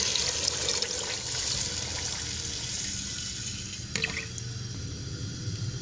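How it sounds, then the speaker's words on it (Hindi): Water pours into a pot of dal and rice khichdi on a high flame, a steady splashing stream at moderate volume followed by a brief clank and quieter bubbling. "अब मैं इसके अंदर पानी ऐड कर दूंगी।"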